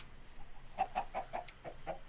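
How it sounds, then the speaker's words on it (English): Chickens on a chicken farm in Minecraft give a quick run of soft, close clucks, about half a dozen short pecking calls in a row with nothing else heard. "It's my chicken farm,"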